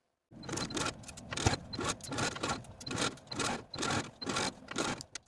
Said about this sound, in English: I'm going to take it to my machine and sew with a 3/8 inch seam allowance.